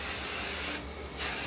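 Hairspray hisses in a steady continuous burst onto foam-rolled vintage-style hair, close and loud, briefly dipping near the middle before resuming.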